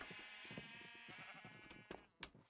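Sheep bleat repeatedly in a block-building video game, short wavering calls layered over steady game background sound, fairly close and continuous, with a couple of sharper knocks near the end.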